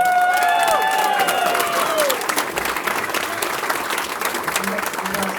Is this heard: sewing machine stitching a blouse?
no